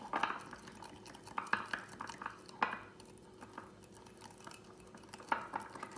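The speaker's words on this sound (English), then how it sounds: "once all the ingredients are in the mug, we're just gonna whisk it" Cake batter being whisked in a mug, giving repeated light clinks and scrapes of utensil against the mug at an uneven rhythm over steady room noise, close by and moderately quiet.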